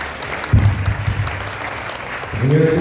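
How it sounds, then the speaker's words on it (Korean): A residents' briefing audience on an apartment reconstruction project breaks into dense, continuous applause welcoming a presenter, a close wash of many hands with a low voice rising briefly near the end. "힘찬 박수로 맞아주시기 바랍니다."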